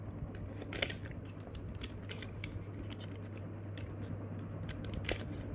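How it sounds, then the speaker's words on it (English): Paper is folded and pressed flat for an origami jet plane, producing soft repeated crinkles and sharp creasing scrapes close by over a steady low hum, with no voices. "fold it. Just flatten it."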